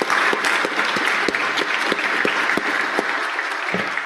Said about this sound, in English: let's give John a big round of applause for